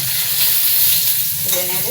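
Pointed gourd (potol) slices frying in oil in a Bengali home kitchen, a steady close sizzle with a brief stirring scrape near the end.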